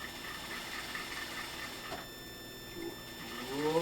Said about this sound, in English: So I prepare the machine and stitch at 3/8.